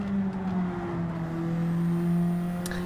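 A racing car engine in Gran Turismo 7 drones steadily at a moderate level with sustained tonal whine, no talk over it.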